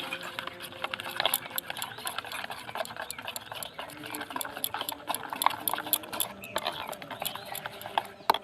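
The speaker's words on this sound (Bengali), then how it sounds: "ইনোটা দিয়ে ভালো করে একটু ফেটিয়ে নেব।" Homemade chocolate cake batter is whisked with Eno added, making a quick, steady, clattering rhythm of a whisk against a bowl, faint and continuous throughout.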